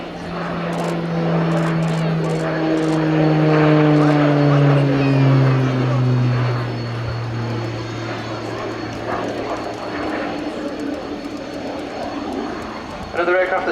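Propeller drone of an RAF Tucano T1 turboprop trainer performing a slow roll past a crowd at a naval air day, loud and near at first with a falling pitch as it passes, then fading into distance.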